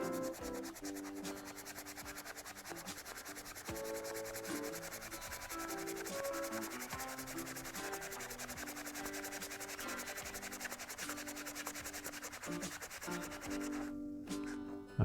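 Magic Eraser being rubbed over a leather surface to lift ink, a continuous scratchy scrubbing with quick back-and-forth strokes, close and fairly quiet, steady throughout.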